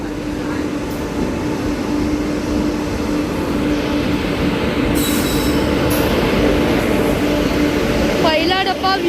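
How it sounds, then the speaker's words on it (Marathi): Jan Shatabdi Express 12052 pulling slowly into a Konkan Railway station, a loud sustained rumble of wheels and coaches with brief high squeals, a voice speaking over it. "स्लो येते ट्रेन. और जनशताब्दी इज अराइविंग."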